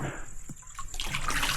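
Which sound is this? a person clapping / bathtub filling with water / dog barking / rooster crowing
bathtub filling with water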